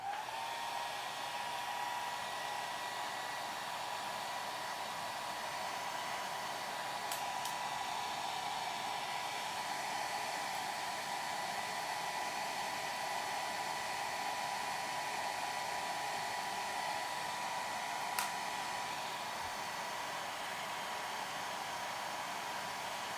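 A hair dryer blows steadily on a watercolor painting of a cactus blossom, a continuous even whir with a constant pitch, fairly quiet and unbroken for the whole stretch, with no talk.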